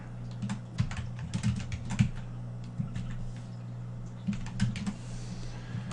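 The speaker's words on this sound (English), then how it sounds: "I can type here." Computer keyboard typing in quick irregular bursts of clicks, close and clear over a steady low electrical hum, with no talking.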